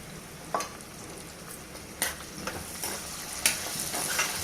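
Sliced onions with salt and turmeric frying on high heat in a pan, a soft steady sizzle broken by three or four sharp spoon-on-pan stirring clinks, close and without voices.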